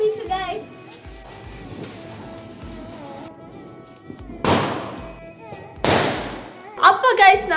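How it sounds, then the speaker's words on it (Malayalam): Two sharp firecracker bursts crack out a second or so apart during a Vishu celebration, each with a short noisy tail, while children and other voices talk before and between them. "ഇനി നമുക്ക് പോയി കുറച്ച് പടക്കം പൊട്ടിക്കാം."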